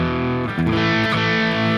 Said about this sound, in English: well, it's a nice crunch tone.